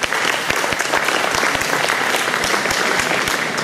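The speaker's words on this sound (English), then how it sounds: "they deserve a round of applause" An audience at a Vedanta Centre function gives a round of applause, a dense crowd of clapping hands with a few sharper individual claps standing out, steady throughout without speech.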